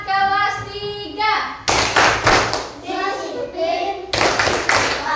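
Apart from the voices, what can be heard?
children doing a rhythmic class clapping routine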